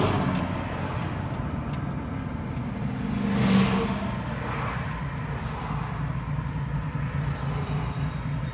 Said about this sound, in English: that Mustang in front of me sounds pretty good.